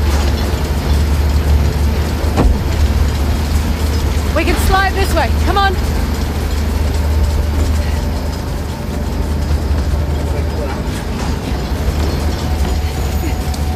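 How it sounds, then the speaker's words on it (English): Train engine machinery in the video game Uncharted: The Lost Legacy gives off a loud, steady rumbling drone with scattered metallic clanks and rattles, while voices talk over it. "That's definitely the engine."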